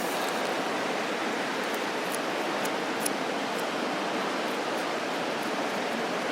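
Water pours steadily onto a campfire to douse it, a continuous close hissing splash that holds at an even level.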